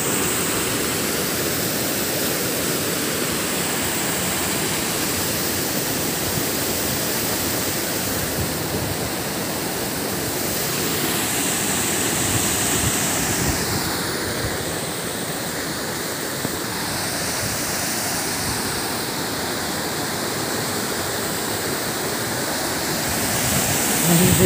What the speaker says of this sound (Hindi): Real visit of waterfall Koyli घुग्गुर।